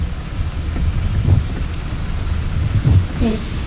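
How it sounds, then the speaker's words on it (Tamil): Heavy rain pours steadily in Nagercoil in a dense roar, with low rumbling beneath and a couple of louder surges. "சரியாவள தண்ணி, சரியாவள மழை"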